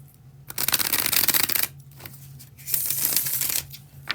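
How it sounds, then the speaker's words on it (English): A deck of tarot cards is bridge-shuffled twice in quick succession, each a crisp fluttering burst up close, with a short pause between them. "Quick bridge shuffle."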